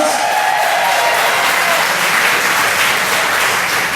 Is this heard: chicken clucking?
no